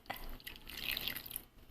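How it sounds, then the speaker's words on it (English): Water trickles and splashes into a bowl of batter for a Chinese street-food crepe, a steady close pour lasting nearly two seconds with no talk over it. "And then I'll just put some water in it"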